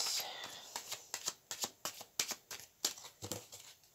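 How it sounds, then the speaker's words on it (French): Tarot cards are shuffled by hand up close, a series of soft, quick riffling flicks in a loose rhythm, quiet and crisp, with faint talk in the background. "battre les cartes pour l'énergie du 15 juillet"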